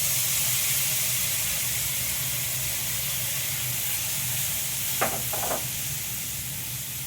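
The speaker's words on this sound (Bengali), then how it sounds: "এবার আমি দই আর পেঁয়াজের পেস্টটা করে রেখেছিলাম, সেটা আমি এখানে দিয়ে দিলাম।" Yogurt and onion paste hit frying spices in a pan with a steady, close hiss and sizzle, and a couple of sharp scrapes of stirring come near the end.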